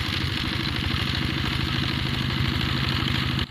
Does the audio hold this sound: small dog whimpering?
no